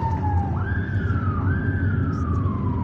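A police van siren wails in rising and falling sweeps through night traffic in Algiers, loud and steady over a low rumble of engines and road noise.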